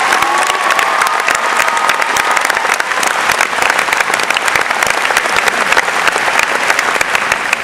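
Loud, dense applause from a large audience at a school scholarship awards ceremony, sustained evenly throughout with scattered cheers and shouts rising from the crowd.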